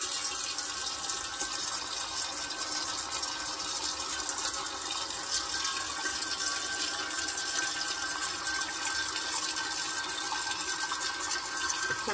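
Water running steadily into a pot being filled for steaming sweet potatoes, a constant even rushing flow with no talking.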